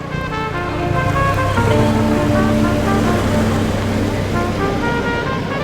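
Sea surf rolls steadily at the Inani beach jetty in Cox's Bazar, a continuous wash with a droning tonal hum from nearby boats running underneath throughout.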